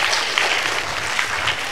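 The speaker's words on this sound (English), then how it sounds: "Please give sir and ma'am a huge round of applause" School children clap together in a steady, close burst of applause, bright and continuous throughout the short stretch, with no talking over it.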